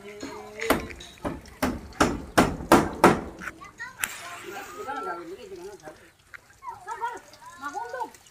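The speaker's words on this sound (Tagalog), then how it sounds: "Martilyo!" A hammer strikes repeatedly at a carpentry job, about eight sharp, evenly spaced blows close by, after which people talk and call out over the quieter background.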